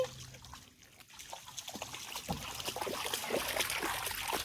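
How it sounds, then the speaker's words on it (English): Water bubbling and trickling in a silly science experiment for kids, a close, continuous run of small gurgles and bubble pops that grows busier and louder toward the end. "Here comes the bubbles."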